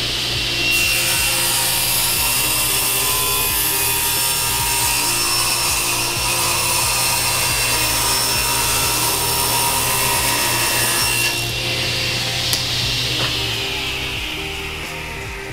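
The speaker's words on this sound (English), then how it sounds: "we're just gonna move that over on the table saw here until the blade lines up perfectly with it" Table saw cutting a board of wood for a floating nightstand, a loud close whine with the blade biting steadily through the timber before spinning down near the end.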